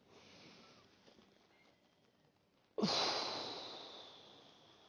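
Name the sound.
deep breathing during chair workout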